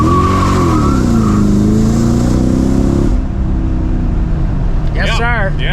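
A modified 600-horsepower Mercedes with an open differential accelerating hard in central Mexico, its engine note loud, close and climbing, then easing off, while people talk and shout over it.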